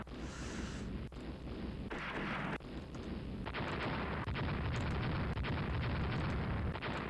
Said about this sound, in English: How many of our guns are firing right now? We've got a full broadside